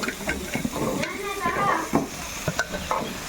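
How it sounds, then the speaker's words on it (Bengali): Pointed gourd and potato pieces frying in a pan, with a sizzle under repeated scraping strokes of a spatula, while a voice talks faintly in the background. "পটলগুলো হালকা ভাজা ভাজা হয়ে গেছে, হালকা ব্রাউন কালারে চলে এসেছে। এর মধ্যে কেটে রাখা আলুগুলোও দিয়ে দেবো"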